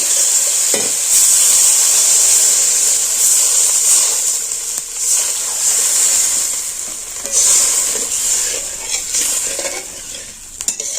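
Lentil and egg curry with pumpkin sizzles and fries steadily in a pan while being stirred, with occasional utensil clinks against the pan and a brief splash as water goes in; loud and close, no talking.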